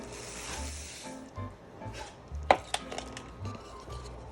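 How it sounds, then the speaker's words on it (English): A thick boiled cookie mixture is stirred by hand in a pot taken off the heat, heard as close, uneven scraping and thudding strokes, with one sharp clink midway. "and stir. You're gonna need some elbow grease for this."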